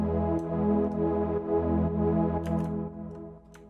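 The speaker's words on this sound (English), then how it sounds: "Add a little bit of chorus, a little bit of reverb, and a couple other effects" Sustained synth chords with a lush, wavering chorus shimmer and reverb tail, steady and close, with a slight change of chord partway through.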